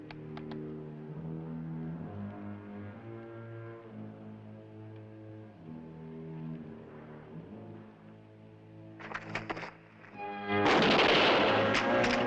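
Long rifles fire in a TV episode of Last of the Mohicans with Ojibwa shooters: after a stretch of music, a few sharp cracks ring out, then a loud, dense volley near the end.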